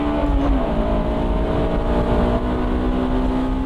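A Honda S2000 prototype on the old Nurburgring course roars loudly under hard acceleration, its engine drone steady and close with a rising pitch at the start.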